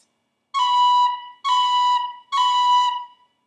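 Three tin whistle notes, each a B with a quick cut grace note from C at its start, played close and clear in even succession with short gaps between them.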